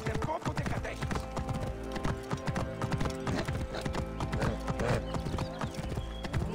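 Horse hooves galloping in the video game Assassin's Creed Origins, with a rapid continuous clip-clop rhythm, loud and close, joined by occasional whinnies.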